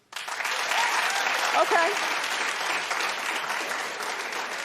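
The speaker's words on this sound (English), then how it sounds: "clap if this is a show that you'd watch" Studio audience on a daytime talk show breaking into sustained applause, a loud, dense wash of clapping that starts abruptly and continues evenly, with a brief spoken word and some crowd voices mixed in.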